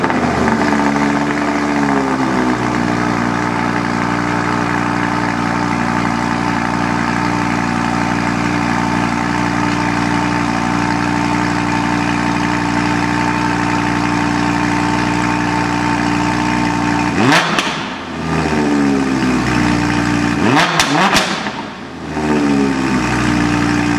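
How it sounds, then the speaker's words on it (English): Audi R8 V10 RWS (2018) with its sport exhaust open in dynamic mode, cold-starting into a loud, steady, rumbling idle with a brief throttle blip near the end. "it's time for the cold start. V10 sport exhaust."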